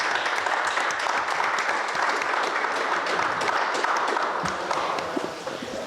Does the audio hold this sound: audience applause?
yes